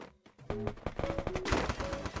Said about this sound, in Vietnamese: thằng nào bắn ghê vậy?